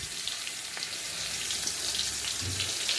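Chopped ginger and garlic frying in a little white oil in a home kitchen, a steady close hiss and sizzle that holds throughout with no talking.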